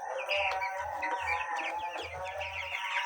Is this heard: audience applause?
no